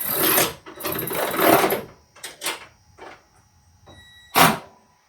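A Ryobi P344 cordless power ratchet spinning bolts in bursts of varying speed, its whirring motor rising and stopping repeatedly with short pauses, close and fairly loud.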